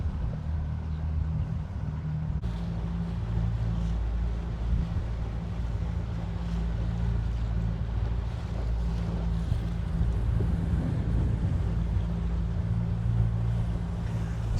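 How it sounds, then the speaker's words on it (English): Strong gusting wind buffets the microphone over choppy water from a small skiff with its motor lifted, a constant low roar that fills the whole stretch with no break. "I don't even know if you can hear me because of the wind"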